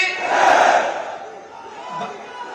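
A large outdoor rally crowd in Baghpat, India roars back a patriotic chant in unison, a loud, sustained mass of voices swelling then slowly fading.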